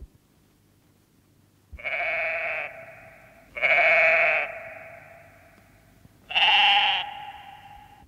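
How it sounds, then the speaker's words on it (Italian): A sheep bleats three times, each bleat a short, wavering, nasal cry with pauses in between; the second and third are the loudest and clearest. "Belato della pecora."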